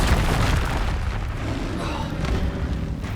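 A spell blast from the Hogwarts Legacy video game: a loud, booming magical burst with a rumbling low-end tail that fades over a few seconds, layered with game combat noise.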